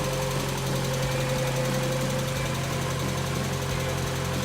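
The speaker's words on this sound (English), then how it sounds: "I just started the Miata. It started right up. It does have a typical lifter tick" A 1990 Mazda Miata engine idles steadily after sitting a month, a close, moderate hum with a fast, light, regular ticking from the lifters.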